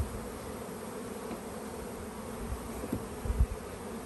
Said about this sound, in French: On est sur une colonie bourdonneuse.